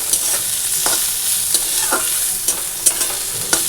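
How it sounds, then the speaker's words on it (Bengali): Radish greens fry in a pan and are stirred, a soft continuous sizzle punctuated by sharp scraping clinks of the utensil at irregular intervals, close and clear. "এই যে মূলো শাক ভাজা হয়ে গেল"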